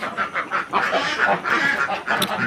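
A flock of about 1,300 ducks, some sick with duck plague, quacks continuously, many overlapping nasal calls close by, dense and fairly loud without pause.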